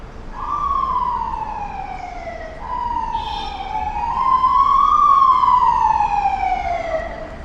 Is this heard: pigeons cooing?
no